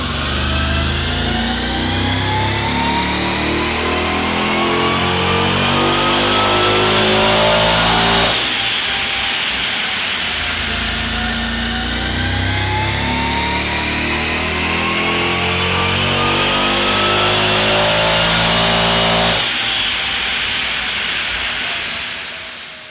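A Hellcat-swapped Chrysler 300C SRT8 with a stock-crank 6.4 and heavy blowers roars on a dyno, revving hard and climbing toward 7,800 rpm in two sustained loud pulls separated by a brief shift.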